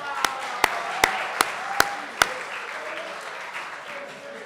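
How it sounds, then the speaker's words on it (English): A few distinct hand claps ring out at a comedy talk, about six sharp evenly spaced claps over two seconds, then fading into soft room murmur and a faint voice. "Round of applause for the lady at the back."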